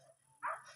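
A dog being carried lets out one short, faint whimpering yelp near the microphone, with a quiet background before it.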